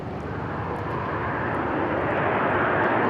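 A Bombardier Challenger 300 series business jet at Dallas Love Field on a hot day, its engines giving off a loud, steady, close roar with no letup.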